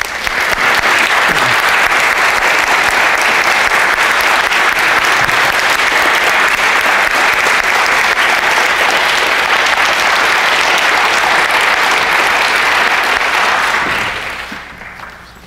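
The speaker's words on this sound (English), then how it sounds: "I'd like for us to just recognize them with an applause" Loud, sustained applause from attendees at a funeral service, honoring caregivers. Dense, even clapping fills the room for about fourteen seconds, then tapers off.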